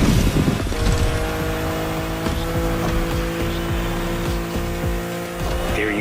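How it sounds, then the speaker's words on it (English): A BMW M4 Liberty Walk Edition in a racing video game roars hard with loud sustained engine tone, quick pitch-shifting gear changes and some tire squeal, close and continuous. "Back with the BMW M4 Liberty Walk Edition"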